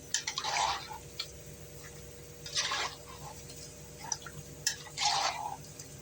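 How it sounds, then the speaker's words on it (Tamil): Water poured into a pan of cooking vegetables for a mochai (field bean) fried kuzhambu, heard as three separate splashing pours over a steady low cooking hum, close and fairly soft, with no talk. "தண்ணி ஊற்றிட்டு மீடியம் ஹையில் வச்சு வேக வச்சுக்கலாம் காயை."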